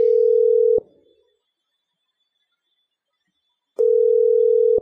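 A Mitel 5324 IP phone placing a call gives two identical steady ringback tones, each under a second long, separated by about three seconds of silence, clear and close.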